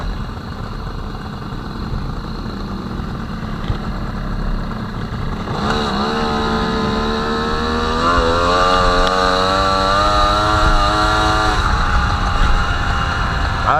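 An MBK 51 moped engine idles with a buzzing two-stroke drone, then revs up and accelerates, its pitch climbing steadily and staying loud and close.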